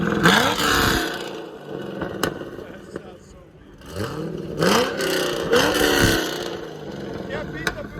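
A cammed Chevy Corvette with a 6.0L V8, headers and Corsa Extreme exhaust revs in repeated loud, choppy bursts with a lumpy idle between them, close by, while people talk over it.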